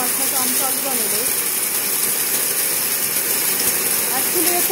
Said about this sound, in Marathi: सो आता मम्मी मिक्सरला लावतीये